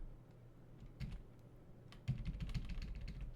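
Keys clack on a computer keyboard in short bursts, sparse at first and then a quicker, louder run of taps, close and alone.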